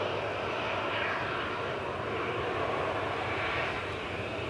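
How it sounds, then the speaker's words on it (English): An EasyJet Airbus A320-200 takes off from Manchester Airport bound for Alicante, its jet engines producing a steady, broad roar heard from a distance, continuous throughout without voices. "So, EasyJet off to Alicante. A320-200 GZRT, flight 2015."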